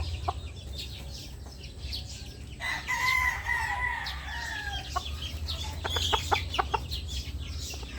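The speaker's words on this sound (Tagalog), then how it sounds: "Tandang pa, bata pa lang," A young rooster crows in a thin, somewhat unfinished call, followed by a few short clucks, close by against a steady low hum.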